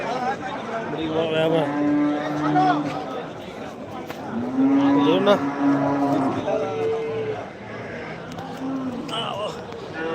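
Cattle moo repeatedly at a busy cow market in Vaniyambadi, Tirupattur district, with calves among the livestock; several loud, drawn-out calls rise over steady crowd noise while people talk throughout.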